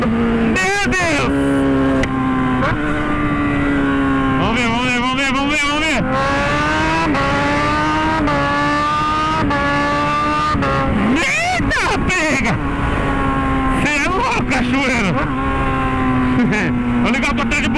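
A Kawasaki Z1000 motorcycle fitted with a racing kit revs loud and close, its engine note repeatedly climbing and falling through sharp throttle blips and quick shifts across the whole stretch.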